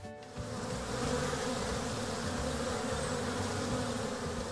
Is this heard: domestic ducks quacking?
no